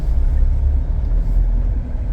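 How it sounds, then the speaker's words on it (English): City road traffic in Adelaide rumbles past as a loud, steady low-pitched drone of car and truck engines, close by and continuous, with no talking. "Adelaide traffic."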